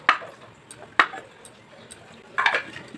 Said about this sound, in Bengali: নারকেলটা টুকরো করে কুড়ে নেব।